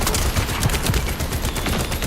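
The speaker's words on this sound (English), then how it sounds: "mow people down with the biggest gun you can find" Heavy gunfire from the video game The First Descendant during a defense mission, a dense, continuous barrage of rapid shots with no talking.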